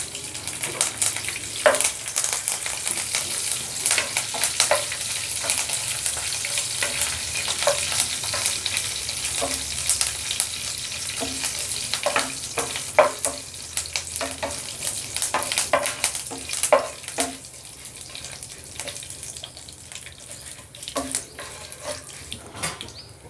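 Crackling, popping sizzle of spices, curry leaves and dried red chillies frying in hot oil, with irregular sharp spits and bursts over a steady hiss, no talking.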